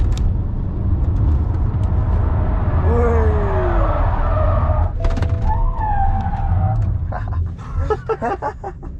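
A car drifting on a race track at a MINI versus BMW track day gives rumbling engine noise and a brief tyre squeal, with scattered clatter and a loud burst near the end.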